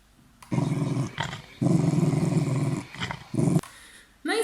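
A dog growls in several sustained, rumbling bursts with short pauses between them while being brushed, close and fairly loud, with a brief higher sound at the end.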